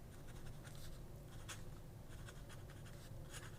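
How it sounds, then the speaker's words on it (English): A Sailor Compass fountain pen with a thick Fude nib scratches across paper in short, quick strokes, close and soft, with no voices. "write with it upright in order to get a decent line out of this pen"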